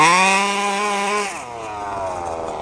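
A 1/5 scale RC truck with a 32cc gas engine buzzes at high revs, a loud steady whine that drops sharply midway as something strips, then idles on in a lower rough drone.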